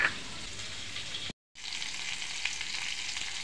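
Bhola fish fries in a pan with a steady bright sizzle, briefly cut by a short silent gap before the hiss resumes at the same level.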